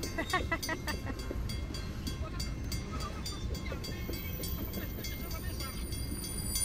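A train rolls past during a holiday picnic, a steady dense rumble with rhythmic clicking and rattling carried under people chatting nearby.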